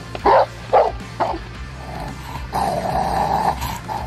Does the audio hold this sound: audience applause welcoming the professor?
no